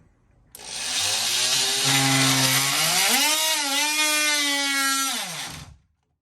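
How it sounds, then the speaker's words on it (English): An oscillating multi-tool cuts through pine shims, a loud, steady buzzing whine that rises in pitch partway through, then winds down and stops. "I like to use this oscillating tool. I'll cut one off here."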